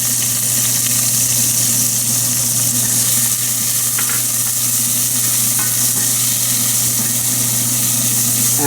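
Green onions sizzle loudly in hot oil in a pan, a constant close crackling hiss with a low steady hum beneath, no talking.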